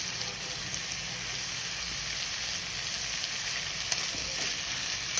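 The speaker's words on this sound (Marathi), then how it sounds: "छान असं परतवून घेणार आहे मी आता" Vegetables and chopped carrots sauté in a pan for masala rice, giving a steady, even sizzle that stays moderately close throughout, broken only by a few faint scrapes and clicks. No one speaks.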